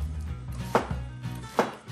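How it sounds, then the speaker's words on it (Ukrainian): A knife chops an onion on a board for paella, with two or three sharp, distinct cuts spaced under a second apart over a low kitchen hum. "Потім нарізаємо цибулю."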